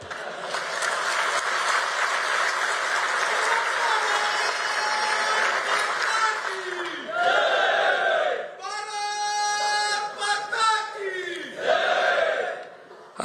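An audience at an Akhil Bharatiya Vidyarthi Parishad event, a groundbreaking ceremony for its Gujarat state office, bursts into dense, sustained clapping and cheering for several seconds, then it fades into scattered crowd noise and shouts.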